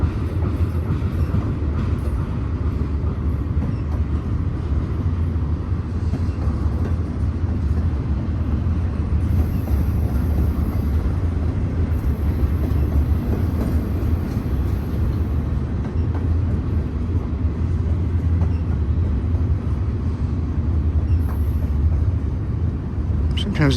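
A long freight train rolls past at Cajon Pass with a flat wheel, a continuous loud rumble of cars and wheels on rails heard close by for the whole stretch.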